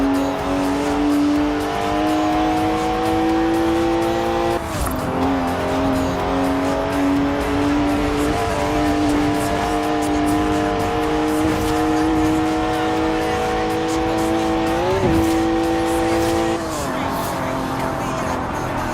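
A BMW 1M drives and drifts in Forza Horizon 4, its rear-wheel-drive engine droning steadily with pitch shifts and brief tire squeal, loud throughout, with a voice talking over it.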